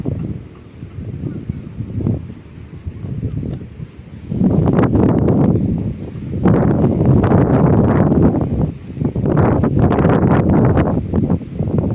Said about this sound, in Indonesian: Angin masih sangat kencang sekali.